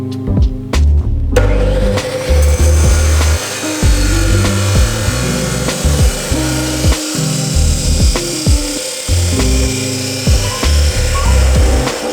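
Roll bar steel tube being cut to length for an Integra, loud rough rasping strokes in an uneven rhythm with sharp clanks between them, close and with no talking.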